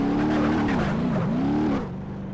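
A car engine revving and driving across a sandy beach in the BeamNG Drive game, a close steady motor whine rising and dipping in pitch before easing off.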